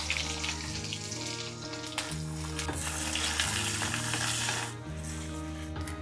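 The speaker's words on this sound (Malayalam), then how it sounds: "ഉള്ളി മൂത്തുകൊണ്ടിരിക്കുന്നു." Onion frying in hot coconut oil after mustard seeds, giving a steady, close sizzle that holds throughout over a background melody.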